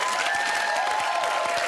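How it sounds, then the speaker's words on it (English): Brief burst of applause for grand finalists at a homebrew beer contest final, dense clapping with a cheering voice held above it, close and loud from start to finish. "Round of applause"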